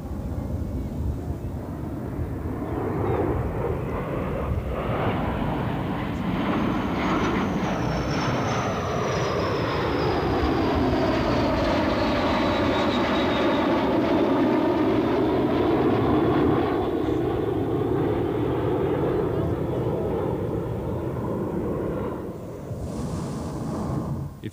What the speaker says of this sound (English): As for the Israeli jets, flown by the pilots who trained the fighter pilots